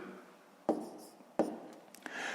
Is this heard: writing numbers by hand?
yes